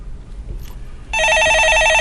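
An electronic telephone ring starts about halfway in, a loud steady warbling trill continuing to the end after a quiet stretch of faint room noise.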